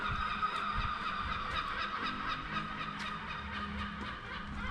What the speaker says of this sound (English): Those bloody seagulls